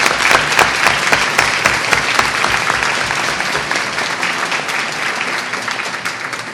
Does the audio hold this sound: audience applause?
yes